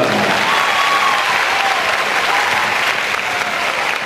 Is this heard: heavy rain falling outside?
no